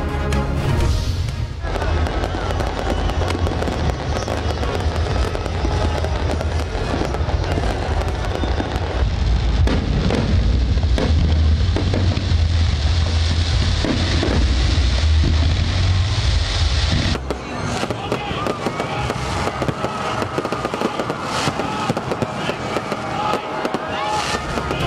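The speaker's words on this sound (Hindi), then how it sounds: "रात 12 बजते ही नेशनल स्टेडियम में आतिशबाजी का मुजाहिरा।" Fireworks over the National Stadium in Karachi at midnight for Pakistan's Independence Day, a dense continuous barrage of booms and crackling bursts with deep thumps, loud throughout and shifting to lighter crackle near the end.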